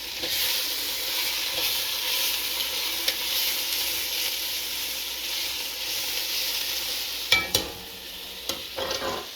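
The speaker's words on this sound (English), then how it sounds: "Give a little stir." Food sizzles in a hot pan with a continuous hiss as it is stirred, and a few sharp utensil scrapes and clicks come through near the end.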